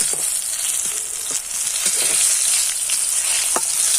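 Raw potato snacks frying in hot oil, giving a steady, loud sizzle throughout with a few soft clicks and pops scattered over it.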